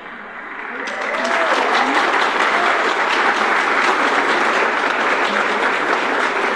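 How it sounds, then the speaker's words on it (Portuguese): An auditorium crowd bursts into applause after an auction result is announced, the clapping swelling within the first second and then holding loud and dense to the end. "o resultado foi anunciado e os aplausos aqui no auditório"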